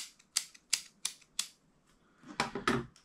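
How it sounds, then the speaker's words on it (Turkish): A Leatherman multitool is snapped open and shut, producing a series of sharp, crisp metallic clicks at a steady pace, then a quicker cluster of clacks, close and fairly quiet. "Leatherman daha yumuşak, daha kolay açılıp kapanıyor."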